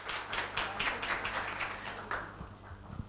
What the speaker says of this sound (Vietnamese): chúng ta có thể dành một tràng pháo tay thật lớn hơn nữa để chào đón Phó Giáo sư Tiến sĩ Lê Bạch Mai